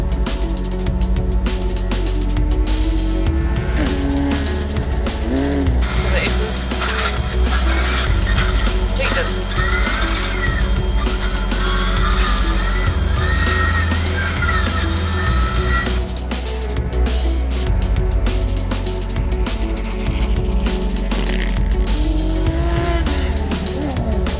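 A Ford Escort rally car racing laps at Levels Raceway in a two-wheel-drive event, its engine revving hard and droning continuously with tire squeal and skids, loud and close, under a voice heard partway through.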